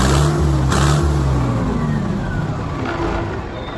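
A heavy Mahindra Arjun Ultra 555 tractor engine drones loudly at high revs, a steady low rumble that gradually eases and fades slightly toward the end.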